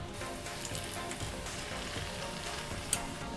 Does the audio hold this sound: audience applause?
no